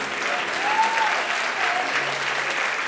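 A church congregation breaks into sustained, dense applause that fills the room evenly from start to finish, with a few faint voices rising within it.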